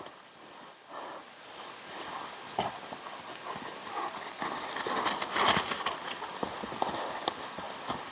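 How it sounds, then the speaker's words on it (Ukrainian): A mare's hooves clip-clop at a steady walking pace beside her newborn foal amid outdoor ambience, with a few louder steps near the middle. "Дивіться, кобила. Дуже гарна мама пантрує лоша."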